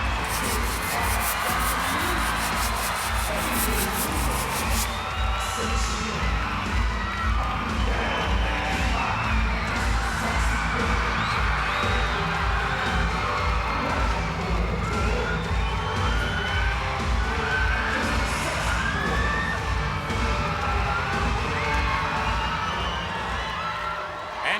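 Capacity arena crowd at a televised wrestling match in Birmingham's NEC, a steady dense roar of cheering, whooping and shouting that holds loud and unbroken throughout.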